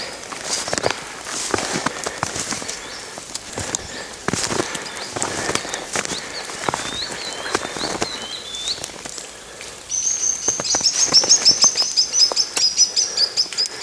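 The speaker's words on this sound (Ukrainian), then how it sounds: "Якісь пташки вчинили справжню істерику." Small forest birds chirp and call agitatedly in rapid bursts, with a shrill trilling rising near the end over rustling background noise.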